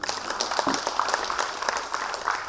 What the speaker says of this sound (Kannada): ಡೋನರ್ ಅಂತ ಅವ್ರಿಗೊಂದು ಚಪ್ಪಾಳೆ ತಟ್ಟಿ